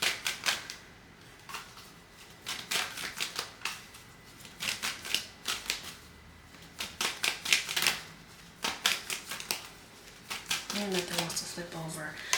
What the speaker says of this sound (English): Let me get one more out of this deck